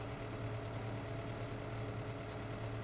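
A small tractor engine in Farming Simulator idles at a steady low rumble, constant and moderately quiet throughout with no talk.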